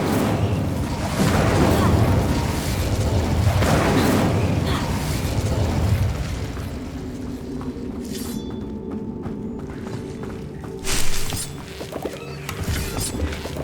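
A fire spell is cast during Hogwarts Legacy gameplay, bursting out with booming, crashing impacts amid other spell effects and game sounds; a voice speaks over parts of it.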